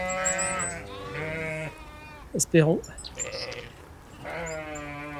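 Sheep bleat on an Alpine hiking trail: one loud, wavering bleat cuts in close by between stretches of a person talking, with quieter animal cries nearby.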